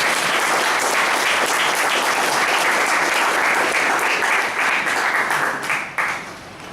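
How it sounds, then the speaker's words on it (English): An audience at a Toastmasters meeting applauds loudly and steadily, a dense wash of clapping that holds for several seconds before thinning and tapering off at the end. "So give a round of applause, man."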